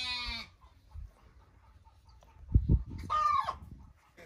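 Chickens cluck and crow on a farm, with goats nearby: a loud harmonic rooster-like call at the start, low scuffling and thumps through the middle, then another strong bird call near the end, all without talk.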